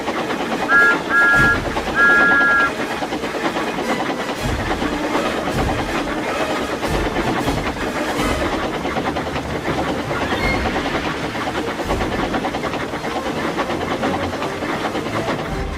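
A train engine rolls along the rails close behind Thomas, a steady loud rumble with rhythmic clickety-clack and hiss, opening with short whistle toots.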